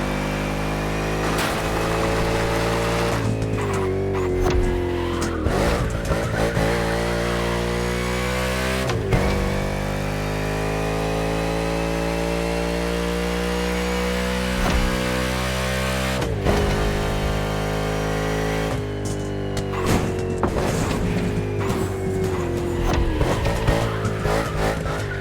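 A car in a racing game driving hard, with a loud continuous engine drone that rises and falls through gear changes and repeated sharp tire squeals and skids under braking, close and steady with no talk.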